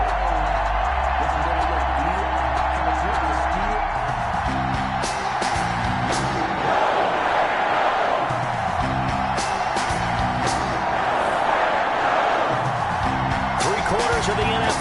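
A stadium crowd in an NFL video game matchup between the Los Angeles Rams and the Green Bay Packers keeps up a loud, steady roar with cheering and whoops, partly under a commentator's speech and rhythmic music.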